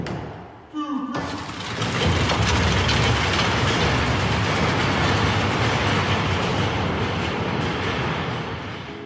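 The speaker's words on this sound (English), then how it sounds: "That was the sound of a 4-man bobsled being pushed down an ice track." A four-man bobsled pushed down an ice track: a sharp start, then a loud, sustained rumbling scrape and clatter of runners on ice that holds steady for several seconds before easing slightly at the end.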